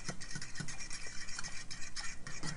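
Fork stirring mac and cheese in place of a whisk, giving a steady run of soft, close scraping and clinking strokes in a repeating rhythm, heard alone without talk.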